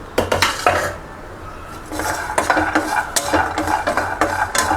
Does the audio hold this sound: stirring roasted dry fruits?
yes